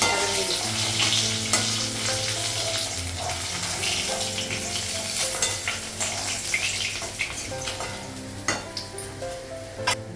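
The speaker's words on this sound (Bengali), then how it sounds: "বাকি মাছগুলো ভাজবো আর একটু তেল লাগাবো।" Fish frying in oil in a hot wok in a home kitchen, a steady, dense sizzle with scattered spatters and light clinks of stirring throughout, with no voices.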